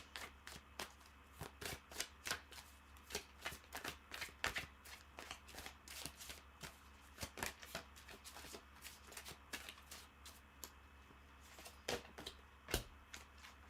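Tarot cards shuffled in quick, crisp bursts of riffling and slapping, close and fairly quiet, with brief pauses between runs and no talking.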